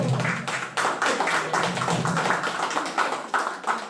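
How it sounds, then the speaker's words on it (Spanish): A crowd claps at an outdoor political rally in Manchay, Peru, with bursts of hand claps in an uneven rhythm that rise and fall, loud and close. "¡Aplausos para el pueblo!"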